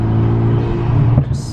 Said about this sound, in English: I love all the sounds this car makes. So many turbo sounds.